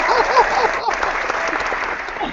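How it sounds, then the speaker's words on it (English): Round of applause on a podcast: a short burst of clapping from a small group, loud and close, with people talking over it and a brief dip partway through before the clapping carries on. "You get a round of applause for that."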